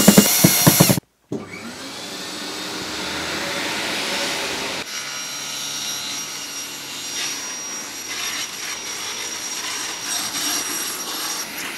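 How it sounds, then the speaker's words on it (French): A power drill drives screws through wooden wall panels in a garage, a loud sharp burst at the start cutting to silence, then a long sustained motor whine that shifts in pitch partway through, with no talk. "je vais pouvoir ensuite visser chaque plaque pour permettre qu'elles soient toutes bien sur le même plan"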